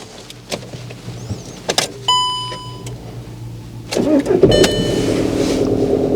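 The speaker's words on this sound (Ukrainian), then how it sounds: "Зараз спробуємо завести авто." Skoda Fabia being started: a few clicks and an electric whir, then the engine cranks and catches near the four-second mark and settles into a close, steady idle.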